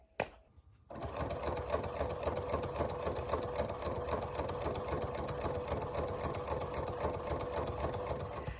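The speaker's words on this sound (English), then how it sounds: "connect right sides together, and just sew a straight line across, leaving a hole to turn it out" Sewing machine running steadily after a brief pause, stitching a straight seam across fabric with a close, even, rapid mechanical chatter that holds without a break for about eight seconds.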